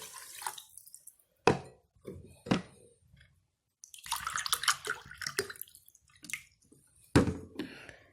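Cups of water are poured into a pot holding sugar and ghee while making syrup for basbousa, heard as several separate splashing pours with quiet gaps between them, close and moderately loud.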